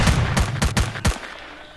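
An upgraded gun in STALKER Clear Sky fires four or five sharp, loud close shots in a quick uneven burst, each cracking off cleanly before the sound falls away.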